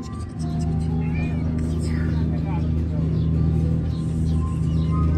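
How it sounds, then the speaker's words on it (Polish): A cat meows a few times near ruins at Luxor, Egypt, faint thin cries over a constant low droning hum, with a soft voice in the background. "Koty znajdą mnie wszędzie."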